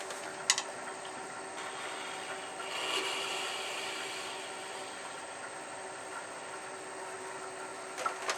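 Hand-sharpening a twisted hardwood point with a steady, close raspy rubbing and scraping of blade or rasp on wood, continuous with a couple of sharp knocks, no talking.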